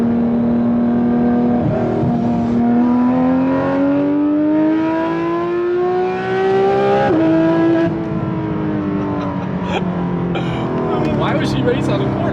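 A sports car engine drones and climbs steadily in pitch as it accelerates, loud and close, with people talking over it.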